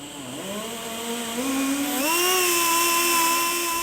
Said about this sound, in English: Thread is tapped into holes.